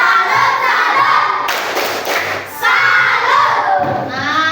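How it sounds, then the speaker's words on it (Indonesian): Fifth-grade elementary classroom performs a chanted clapping routine: rhythmic bursts of children's claps and thumps alternate with loud group chanting, close and lively, with a brief pause in the middle. "Sekarang kita tepuk salut."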